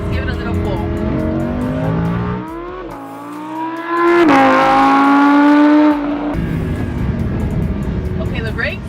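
A 2015 Lamborghini Huracan LP 610-4 accelerates hard, its engine note climbing through rising harmonics, briefly dropping at a gearshift, then surging louder and higher before easing off; close and loud, with talk over parts of it.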